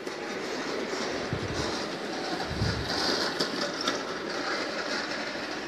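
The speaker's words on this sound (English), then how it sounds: "Emily couldn't pull this train by herself" A G scale model train runs along its track, giving a steady rolling rumble with faint clicking from the rail joints. The sound is continuous and close throughout, with no talking.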